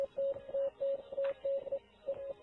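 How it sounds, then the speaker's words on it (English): Morse code tones hidden in a video's soundtrack: a steady series of clean, single-pitch electronic beeps in short and long bursts, evenly spaced and clearly audible over a quiet, faintly noisy background. "There's a secret embedding of Morse code which can be heard."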